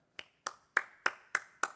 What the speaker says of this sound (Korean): 이런 박수를 언짢은 박수라 그래요.